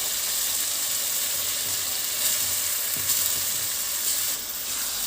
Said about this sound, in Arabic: هنزل معايا بالرز المغسول